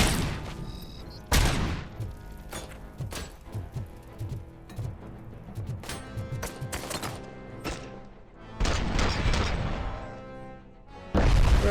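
Grenades blowing up inside a shop in Robocop: Rogue City, several sharp, loud blasts spread across the clip with scattered gunfire and crashing debris between them, no voices.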